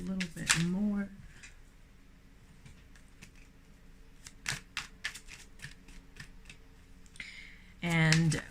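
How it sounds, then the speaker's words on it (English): Tarot card deck shuffled by hand, a series of quiet, brief papery riffles and taps spread through the middle, with a person speaking briefly at the start and end. "Just gonna shuffle a little bit more."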